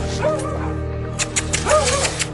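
Several neglected dogs left without food, water or shelter make short yips and whimpering barks at close range, in a few quick bursts over a low steady background hum.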